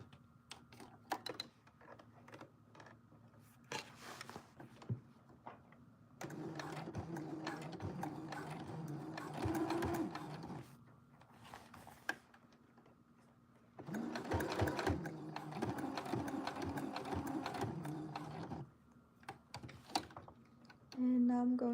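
Sewing machine stitching fabric in bursts: a short run, then two long sustained whirring runs of rapid needle clatter separated by pauses with small handling clicks, fairly faint and close.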